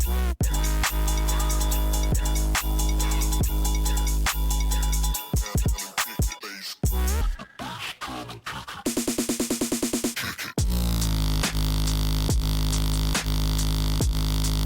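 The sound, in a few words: dubstep bass cannon kick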